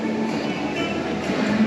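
Passing train with a steady low rumble and rolling wheel noise at moderate distance, outdoors in a Christmas light display.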